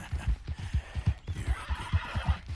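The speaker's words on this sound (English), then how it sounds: "I definitely need to brush this horse." Horse in Red Dead Redemption 2 whinnies and snorts over a steady run of close, rhythmic hoof clip-clops, fairly loud throughout with a brighter neigh in the second half.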